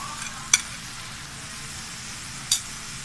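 Chicken roll filling fries in a pan with a steady, moderate sizzle, and two sharp utensil clinks or scrapes stand out clearly above it.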